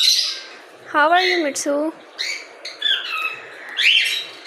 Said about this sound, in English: This is our parrots.